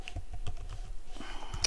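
Fingers tap quickly on a computer keyboard, a steady patter of soft, close keystrokes with no talking.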